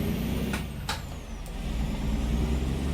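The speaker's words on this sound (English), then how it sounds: "We got a car coming. And a truck." A heavy truck in American Truck Simulator rumbles past with a low, steady engine drone, punctuated by a few short hissing bursts.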